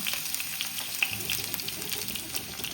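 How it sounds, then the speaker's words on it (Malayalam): Chopped garlic fries in hot oil in a pan, producing a steady, close crackling sizzle with small pops throughout. "ആദ്യം നമ്മൾ വെളുത്തുള്ളി ചെറുതായി കട്ട് ചെയ്തെടുത്ത് കൊടുക്കാം."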